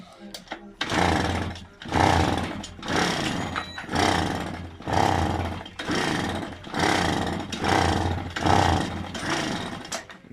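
Komar moped engine cranked and revved after a long period unused, rough two-stroke buzzing rising and falling in repeated surges, loud and close.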